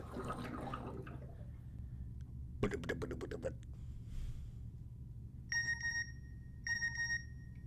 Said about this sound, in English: Fix your ringtone.